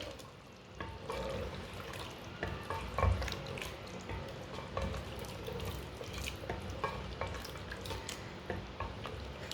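Mutton with garam masala stirred in a pan, quiet sizzling under repeated scraping and clinking of a spoon against the vessel, fairly faint throughout.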